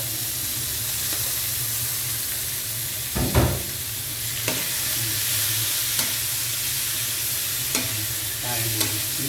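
Long beans (sitaw) and tomatoes stir-frying in a hot pan, a dense steady sizzle broken by a few scraping stirs and clacks, close and fairly loud, with no speech.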